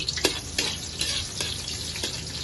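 Onion sautés in a pan for ginataang papaya with chicken feet, a steady close sizzle with periodic stirring scrapes at a regular rhythm.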